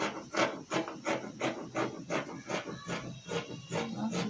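Scissors snip through fabric while cutting a second pocket piece for a long flare gown, giving a quick, regular series of about a dozen crisp rasping cuts, close and alone.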